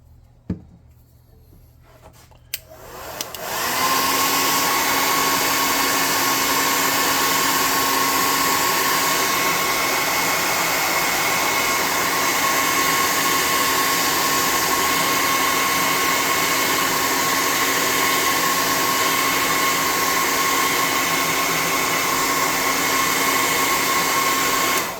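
A hair dryer blows steadily on freshly painted tabletop terrain scatter for a hangar fight scene, switching on after a few quiet seconds and then running loud and constant, close by, with no talking.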